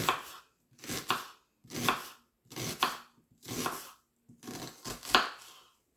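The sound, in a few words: knife cutting an onion on a board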